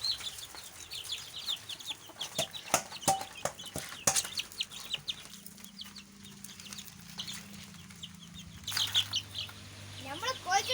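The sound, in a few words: chickens clucking while being fed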